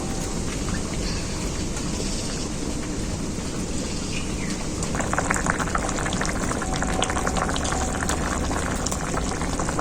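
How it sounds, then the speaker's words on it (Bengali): A chini champa fish curry with potato and eggplant boils in a pot, giving a dense, steady bubbling and hissing that grows a little louder and busier partway through, with no voices. "বেগুনগুলো দেওয়ার পর ঝোলটাকে খুব ভালো করে ফুটিয়ে নিয়েছি"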